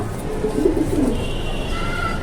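Pigeons kept for pairing and breeding coo softly in a low, continuous murmur, with a faint higher call or two joining near the end over a steady background hum.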